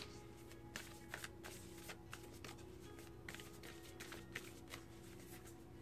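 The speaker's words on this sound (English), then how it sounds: "Let's pull an oracle card." Oracle cards are shuffled and pulled during a tarot-style reading, giving soft, scattered riffling snaps and flicks at close range over a faint hum, quiet and without talk.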